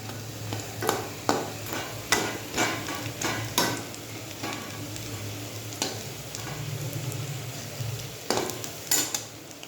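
Fish roe fritters made with gram flour, green chili, onion and salt fry in hot oil with a steady sizzle, punctuated by repeated sharp scraping and tapping clicks of a utensil stirring and turning them in the pan.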